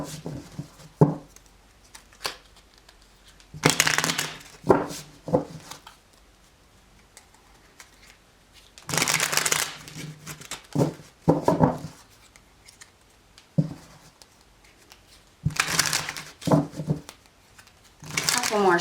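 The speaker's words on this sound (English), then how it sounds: "Couple more shuffles." Tarot cards shuffled by hand during a reading: several rapid, papery riffling bursts, each lasting one to two seconds and separated by quiet pauses, heard close and crisp.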